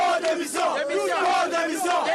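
A dense crowd of protesters in Lomé, Togo, chants and shouts together at a 2017 demonstration, rising and falling voices in a loud, continuous, rhythmic roar.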